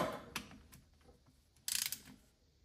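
A torque wrench tightens the rear differential plug on a 2016-2018 Toyota RAV4 Hybrid, giving a few faint mechanical clicks and a brief ratcheting burst near the end, quiet and close with no talking.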